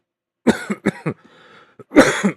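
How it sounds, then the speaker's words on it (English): Several harsh coughs burst out in quick clusters, with a short throat-clearing rasp in the middle, close and loud against otherwise silent background. "oh, the infamous cough per episode"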